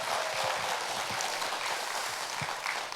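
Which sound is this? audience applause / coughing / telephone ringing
audience applause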